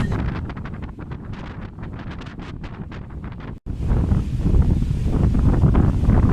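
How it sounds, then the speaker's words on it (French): Strong wind in the Philippines roars and buffets a microphone, rumbling heavily with a brief dropout partway through, then gusting even harder. "il y avait un vent de malade"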